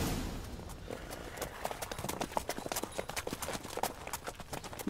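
Horse hooves clip-clop in a steady riding rhythm in The Witcher 3: Blood and Wine, a close, moderately loud patter of hoofbeats over faint ambient game background.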